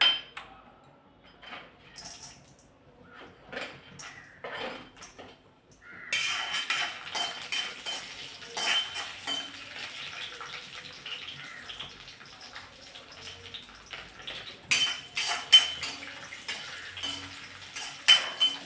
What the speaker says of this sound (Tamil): இனி இந்த முந்திரியையும் பாதாமையும் வறுத்தெடுத்துடலாம்.